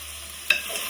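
Vegetables and chopped dill are stirred in a frying pan for vegetable pulao, a soft steady sizzle with one sharp scrape of the spoon midway, no talking.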